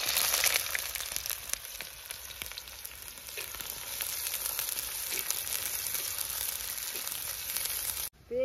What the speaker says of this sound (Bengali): তেল গরম হয়ে গেছে, এর মধ্যে পেঁয়াজ দিয়ে দেবো।